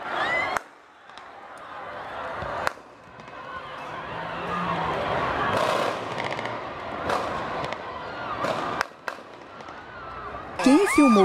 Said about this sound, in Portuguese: quando de repente tiros e muita correria